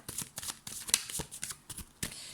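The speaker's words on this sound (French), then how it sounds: "Alors je vais retirer encore une carte" Tarot cards are shuffled and drawn up close, making quick riffling, flicking and sliding sounds in short bursts.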